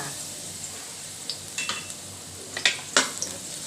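Garlic stir-frying in oil in a large wok for a squid and salted egg dish, with a soft steady sizzle broken by a few sharp scraping clicks of the spatula toward the end, close and fairly quiet.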